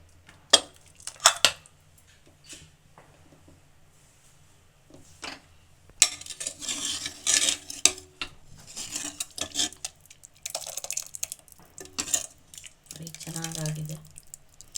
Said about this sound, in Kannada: ಈಗ ಲಿಡ್ ಓಪನ್ ಮಾಡ್ತಾ ಇದ್ದೀನಿ.